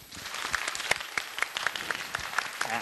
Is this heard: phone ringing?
no